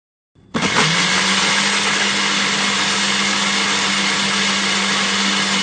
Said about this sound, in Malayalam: നമുക്കിതിനെ ഒരു ബ്ലെൻഡറിലോട്ട് എടുക്കാം